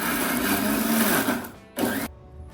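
A mixer grinder runs loud and close, grinding roasted onion, garlic, ginger, coriander and raw tomato into masala, with a steady whir that cuts off, briefly restarts, then stops.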